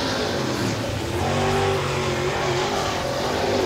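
A super late model stock car on its second timed lap at Crossville Raceway, engine wailing at high revs with a sustained loud drone that swells slightly as it passes, no voices.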